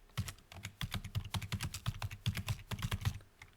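Fast, steady typing of code on a computer keyboard, a dense run of crisp close keystrokes with tiny pauses between bursts, no voices over it.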